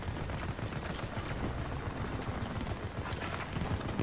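In a war video game, dense gunfire rattles almost nonstop, rapid overlapping shots and bursts forming a continuous, moderately loud barrage with no pauses.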